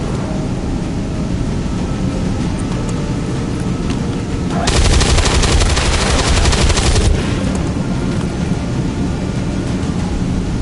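Weapons fire in the video game XCOM 2, a loud rapid burst of automatic shots lasting a couple of seconds over a constant rumbling background.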